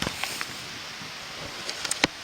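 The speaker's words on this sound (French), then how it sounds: "donc il flotte, il y a du vent" Rain and wind blow outdoors near parked cars on a wet, stormy day, a steady broadband wash of gusts and patter with a few faint sharp drips, no voices.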